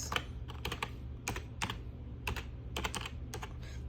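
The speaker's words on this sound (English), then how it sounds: "It's very hard to type with just one hand" Someone types on a computer keyboard with only one hand, producing irregular clusters of close, crisp key clicks with short pauses between them, and nobody talks.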